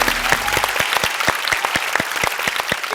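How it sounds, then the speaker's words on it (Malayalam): Audience applause on a TV singing show elimination round, a full continuous wash of clapping with a few distinct claps standing out, steady throughout. "എല്ലാവരും ഒന്ന് കൈയടിച്ച് ഹാപ്പി ആയിട്ട്"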